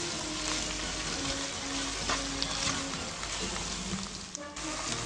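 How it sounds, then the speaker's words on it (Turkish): Peppers sizzle steadily in an oily pan while cooking for a Spanish omelette, a dense continuous frying hiss with faint stirring clatter near the end. "Biberler de yumuşayana kadar birkaç dakika pişireceğiz"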